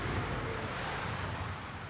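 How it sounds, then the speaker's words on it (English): Torrential summer downpour in central London in the middle of August: a dense, steady roar of heavy rain, continuous and fairly loud throughout, with no voices. "the summer heat is broken with a torrential downpour"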